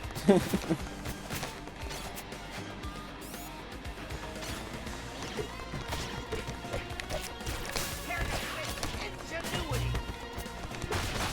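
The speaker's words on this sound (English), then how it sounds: "God, all this gunfire." Gunfire and crashes from the TMNT: Shredder's Revenge video game, with dense bursts of shots, impacts and game music in a busy, continuous mix, with a player talking over it.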